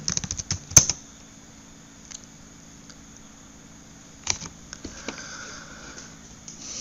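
Quiet clicks from a computer keyboard while a network command is entered for Mikrotik router setup. A few short bursts of keystrokes, one sharp click near the start, then a flurry later over faint background hum.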